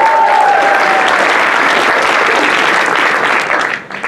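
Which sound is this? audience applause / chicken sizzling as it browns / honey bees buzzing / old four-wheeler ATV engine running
audience applause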